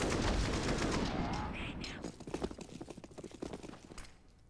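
Gunshots in Counter-Strike during an ESL Pro League match sound as a quick run of sharp cracks after a rushing blast, faint and somewhat distant, with a commentator talking over them.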